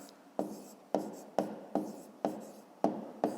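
A pen scratches across paper while a math solution for a fifth-grade exercise is written by hand, in short repeated strokes about twice per second, close and quiet.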